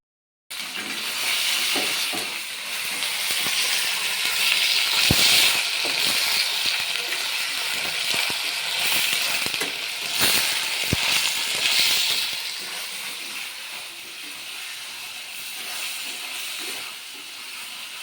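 Ivy gourd (dondakaya) pieces fry in oil in a pan, giving a strong, steady hiss with scattered crackles and pops that fades slightly toward the end, with no talking.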